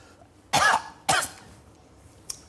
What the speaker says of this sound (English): And that's him coughing.